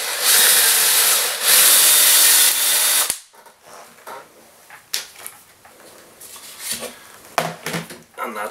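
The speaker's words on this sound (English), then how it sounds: "set the Forstner bit directly into the centre of it against the piece of wood." A drill with a Forstner bit grinds loudly and steadily into a piece of wood for about three seconds, then stops, followed by quieter knocks and handling sounds.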